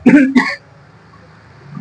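Two quick, close throat-clearing coughs, then quiet room tone.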